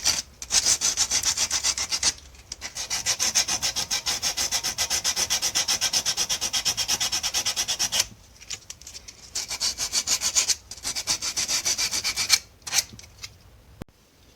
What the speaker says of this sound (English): just get a piece of, I don't know, like 100 grit sandpaper, I guess, and clean them up a little bit